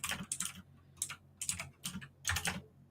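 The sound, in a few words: typing on a clicky computer keyboard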